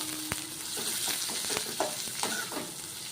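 Sliced onions fry with salt and turmeric in a pan, a steady close sizzle with several short scrapes and clinks as a spoon stirs them and no talking.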